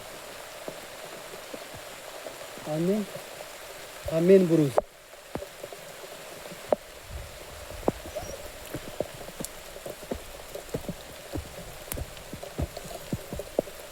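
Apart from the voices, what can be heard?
rain falling at Avchitgad fort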